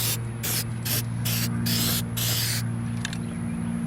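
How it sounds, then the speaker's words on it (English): Steel wheels being spray painted, six short bursts of aerosol hiss in quick succession over a constant low hum, then a faint tap near the end. "go ahead and put another coat around, clean that up"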